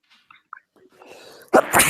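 A single sharp sneeze bursts out loudly near the end, preceded by quiet room murmurs and faint talk in a small study meeting.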